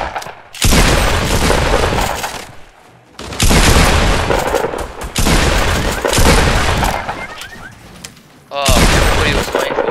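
Gunfire in a Fortnite Battle Royale squad match, loud bursts of rapid shots and booms coming in several long volleys separated by brief lulls, with a player's voice occasionally over the shooting.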